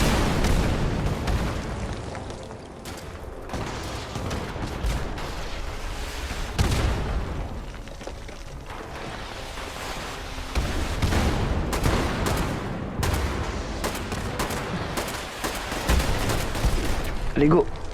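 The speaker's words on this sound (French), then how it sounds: "Il y a quelqu'un qui nous jette des grenades de l'autre côté." Gunfire and grenade blasts in a Fallout 76 battle at Mount Blair: repeated booms and shots rumble fairly loud and dense throughout, with heavier thumps near the middle and end and voices mixed in.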